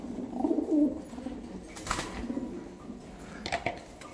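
Afghan pigeons give soft, low cooing calls up close, strongest at the start, followed by brief rustling and fluttering bursts in a quiet space.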